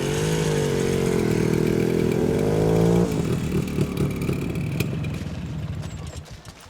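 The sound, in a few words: motorcycle engine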